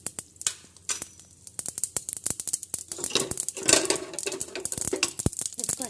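Mustard seeds crackle and pop in hot desi ghee in a pan, a close run of sharp, irregular snaps that grows busier and denser as the seeds heat, with no voices.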